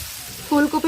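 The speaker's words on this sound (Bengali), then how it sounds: "ফুলকপি ভাজা হয়ে গেছে," Cauliflower frying in a hot pan gives a steady close sizzle, and a person's voice briefly cuts in over the last half.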